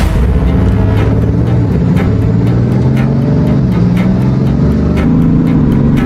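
A Bugatti drives down a runway, its engine a loud sustained drone with shifting tones as it pulls along, punctuated by regular faint ticking, heard close and alone without voices.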